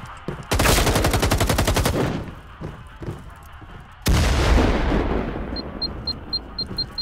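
Gunfire in the video game Firewall Zero Hour: a loud, sustained burst of rapid automatic shots, a pause, then a second heavy burst with a thundering impact, trailing off into faint, regular pops.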